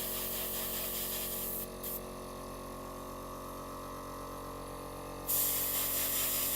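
An airbrush or spray can lays thin coats of orange paint on a miniature, producing a steady close hiss that pauses briefly and then returns slightly louder, with no talk.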